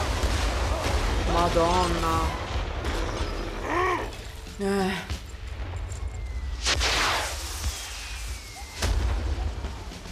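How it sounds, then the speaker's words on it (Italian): Bomb and artillery explosions in the World War I game Valiant Hearts, deep rumbling booms over a constant low roar, with someone talking and exclaiming in Italian over the din. "Attenzione alle bombe."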